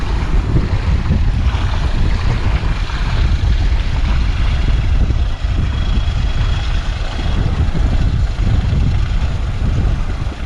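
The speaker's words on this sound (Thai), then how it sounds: "เรือเขาจะพาไปสะพานภูทอง" A tourist boat rides across the Pa Sak Jolasid Dam reservoir, its engine and rushing water merging into a loud, steady, unbroken roar with wind buffeting the microphone and no voices.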